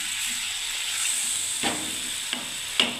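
Chhanar dalna curry bubbling in a pan, a steady soft sizzle and hiss with a few brief sharp pops or clinks near the end, close and moderately loud.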